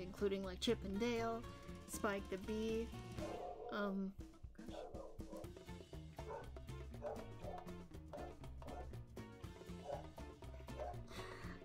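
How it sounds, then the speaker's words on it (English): A dog barks in the background, with sharp repeated yips near the start that continue intermittently beneath a person talking. "that is my dog in the background barking at something"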